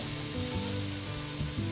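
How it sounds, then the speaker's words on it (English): Leeks and onions sizzle steadily in melted butter in a pan, a constant close frying hiss with occasional faint stirring movements. "we're going to add our leeks and onions in here, and we're just going to cook these till they're just tender"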